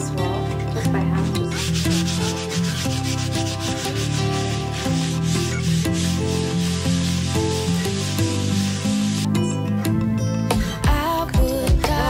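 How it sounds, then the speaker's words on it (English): A wall in an old colonial house being sanded by hand during a bathroom renovation: continuous rasping strokes of abrasive on the surface, running steadily under loud music with singing. "I'm sanding this wall just by hand."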